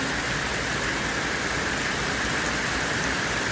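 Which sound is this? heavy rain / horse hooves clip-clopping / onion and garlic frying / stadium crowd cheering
heavy rain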